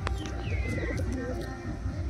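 Pigeons in a loft coo softly and repeatedly over a dense, close background of rustling and low murmuring, with a few brief chirps mixed in.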